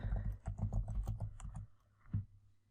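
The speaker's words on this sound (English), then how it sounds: "I'll type sunburst" Close computer keyboard typing as a short word is entered into a software search box: a quick run of clattering keystrokes, then a single key tap after a brief pause.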